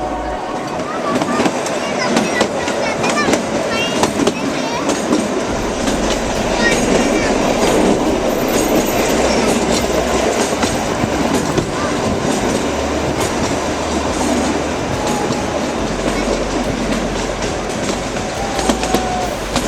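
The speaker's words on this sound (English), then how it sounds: "Now we are inside the toy train." Riding inside the toy train on the Shimla railway, a loud, continuous rumble of wheels and rattling carriages goes on with rhythmic clickety-clack throughout, and voices are heard over it at times.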